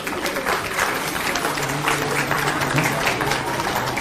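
Steady applause from a crowd at the Chandni Chowk shopping festival in Delhi, sustained and fairly dense, with a low background murmur.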